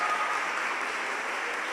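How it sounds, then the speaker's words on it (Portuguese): Steady audience applause in a hall, a dense, even wash of clapping that holds at a constant level without a break. "Aplausos, gente."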